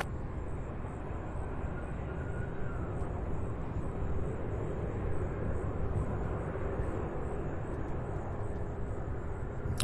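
A UPS Boeing 747 jet on final approach into Louisville airport gives off a steady, broad engine roar that holds constant throughout, with no talking.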